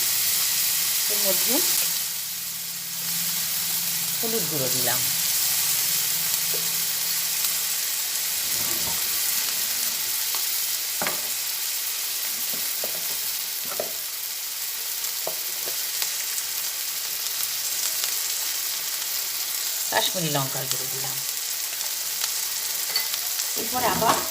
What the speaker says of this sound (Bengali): আবার তেলের মধ্যে এগুলো ভালো করে নাড়াচাড়া করে নিই